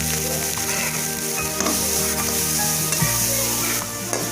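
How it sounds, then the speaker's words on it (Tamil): Grated carrots fry in hot ghee for a sweet carrot pongal, a loud close sizzle with occasional stirring scrapes in the pan. "இப்போ அதே நெய்யில் நம்ம கேரட்டை போட்டு வறுத்துக்கலாம்."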